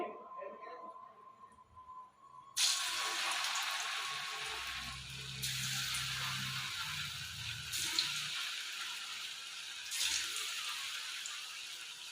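Small crispy rice balls drop into hot oil, starting a sudden loud, steady sizzle that swells again in fresh bursts every couple of seconds as more balls go in, close by, with a faint voice talking underneath.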